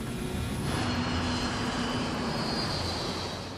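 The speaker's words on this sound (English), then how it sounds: "The sound at first was just a normal airplane flying above." A steady, broad roar of an airplane passing overhead, continuous and fairly loud throughout, with no voices.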